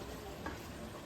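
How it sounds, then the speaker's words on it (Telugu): A pot of chicken curry bubbles quietly on the stove, a soft, even simmering hiss heard from a short distance with no talk. "చికెన్ అయితే మంచిగా ఉడుకుతుంది."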